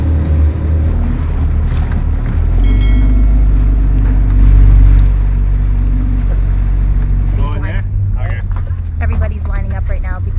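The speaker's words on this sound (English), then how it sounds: "so we're just gonna dinghy the cans over" A small dinghy motorboat heads across the water carrying jerry cans to a fuel station. Its outboard drones continuously with wind buffeting the microphone and water wash around it, and voices talk over it.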